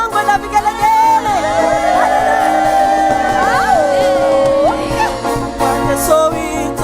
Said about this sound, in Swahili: Wacha nisikie shangwe na vigelegele.